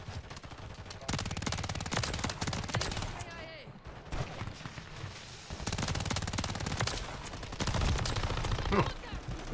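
Pistol gunfire in the video game Modern Warfare 3, with rapid bursts of shots crackling in dense runs and a short lull partway through, then resuming over in-game effects.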